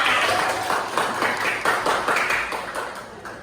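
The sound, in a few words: class clapping hands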